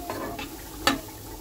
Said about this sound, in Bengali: আর এখানে আমি পেঁয়াজের মধ্যে অ্যাভোকাডোটা দিয়ে দিয়েছি। একটু হালকা করে এদিক ওদিক করে নেড়ে নেব